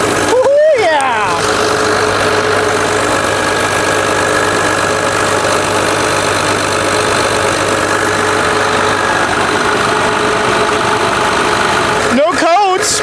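An excavator's diesel engine runs steadily during testing on a service day at a garbage dump, a continuous loud rumble held for the whole stretch, with brief voice-like sounds near the start and end.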